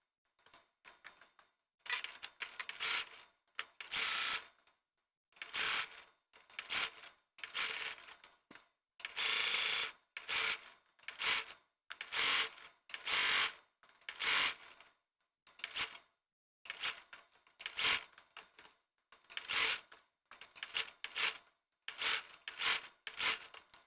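A sewing machine stay stitches the neckline of a woven fabric yoke in short, quiet bursts of rapid whirring, separated by brief pauses, close by with no talk.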